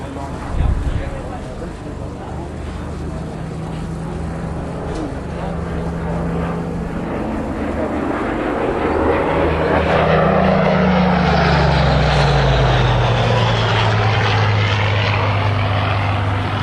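Spitfire aircraft engine during a flying display at Dunsfold. A loud, steady propeller drone swells as the plane passes, then falls in pitch as it moves away. It plays under continuous commentary.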